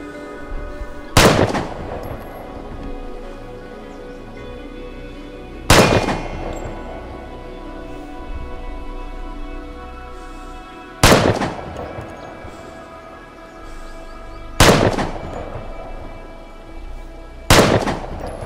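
Five single gunshots ring out at a firing range in the video game Vigor, loud and close, evenly spaced several seconds apart, each with a sharp crack and a decaying echo tail, with no talk.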